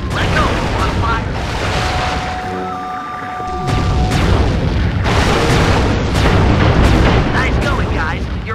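Heavy booming charged cannon blasts in Sly 3: Honor Among Thieves, repeated over several seconds along with a rising tone and busy background effects.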